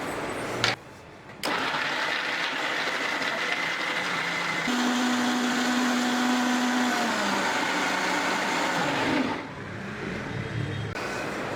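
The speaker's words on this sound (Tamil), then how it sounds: "மிக்சியில் வச்சு அரைச்சி எடுத்துக்கலாம்." A mixer grinder blends orange juice with sugar, ice cubes and a little water, roaring loud and steady for about eight seconds, its pitch shifting partway through, then winding down.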